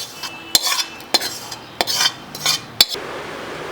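Besan and sugar mixture for laddoos is tipped from a pot into a wide parat, giving several sharp metallic clinks and scrapes of utensil on metal, spaced apart and close by, with no talking.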